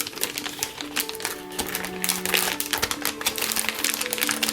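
Scissors snip and crinkle through a plastic bag along its side seam, a close run of sharp clicks and rustles with no talking.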